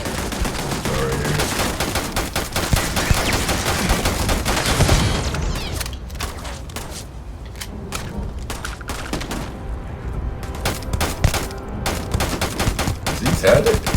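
Sustained automatic gunfire from an auto turret in the video game Starfield, dense rapid bursts running loud throughout with booming impacts mixed in and some talk underneath.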